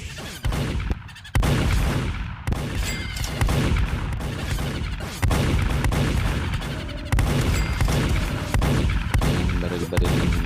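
Dense, loud gunfire crackles in bursts almost without pause in a Skibidi Toilet camera man shooter game, with sharp impacts and booms layered over a constant rumble.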